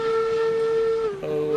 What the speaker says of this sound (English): A little hit on the whistle.